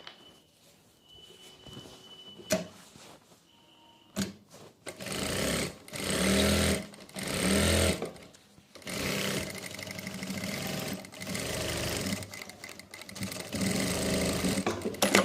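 Sewing machine stitching a salwar, a few faint knocks giving way to fast, rattling runs of stitching in several bursts, growing longer and steadier toward the end, close up.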